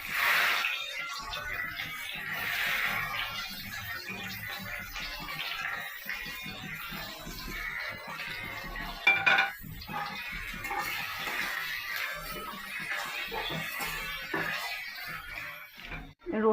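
Onion fries in a pan for a Bengali egg masala, a steady, close, hissing sizzle that carries on for the whole stretch with little change in level.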